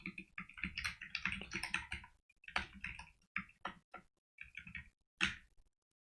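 Code is typed on a computer keyboard in quick, close bursts of key clicks, separated by short pauses and silent gaps, with a final single tap.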